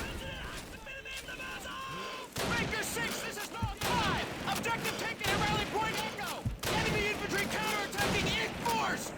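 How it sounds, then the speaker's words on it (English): Rifle fire in Call of Duty 2 from a sniper perched on a silo, mixed with heavy battle gunfire and explosions, while voices talk throughout over the loud, continuous fighting. "We're going to be just sniping enemies on top this silo for a while."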